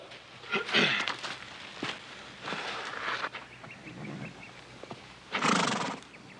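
A horse whinnies loudly several times, the calls near and rough, with quieter rustling and a soft thud between them and no talking.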